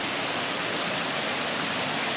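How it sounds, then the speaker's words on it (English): Water rushes steadily through an artificial waterway leading to the Mingus gristmill in the Great Smoky Mountains, North Carolina, a loud, unbroken roar with no voices. "So they have a artificial waterway that goes to the mill."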